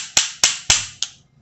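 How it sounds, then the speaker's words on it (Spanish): Four sharp metallic taps from a small hammer on a padlock, evenly spaced and ringing briefly, the last one softer, close by with no talking. "Yo le doy así suave con el martillo."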